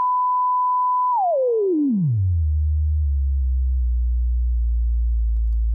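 A pure sine tone from an analog mixing console's tone generator holds a mid pitch, then glides smoothly down to a very deep, steady low hum that continues alone.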